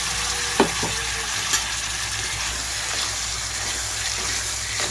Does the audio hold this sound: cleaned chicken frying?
yes